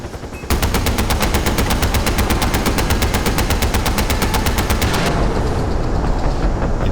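Sustained automatic gunfire in the video game Far Cry 4 aimed at attack helicopters, a loud, evenly spaced rapid stream of shots from a mounted machine gun, running for several seconds before stopping abruptly, with a low engine rumble beneath.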